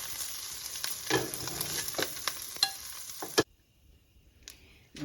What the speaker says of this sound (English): Now I'm doing my sausage. I'm gonna let the sausage cook.